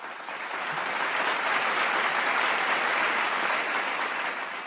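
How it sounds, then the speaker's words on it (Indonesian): An audience at an ASN core values and employer branding launch event claps in a dense, sustained round of applause that holds steady for several seconds, with no talking. "Boleh saya dengarkan sekali lagi tepuk tangannya?"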